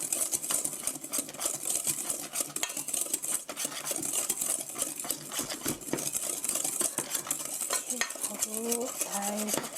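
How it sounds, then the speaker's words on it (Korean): Apple cinnamon cake batter being mixed in a bowl, with continuous close scraping and tapping of a utensil against the dish, steady and busy, while a voice is faintly heard toward the end. "고루 섞어주세요"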